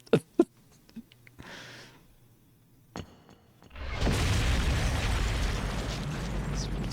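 A video game explosion in Trauma Team: a few sharp clicks and small pops, then a heavy rumbling blast that swells and roars on loudly to the end.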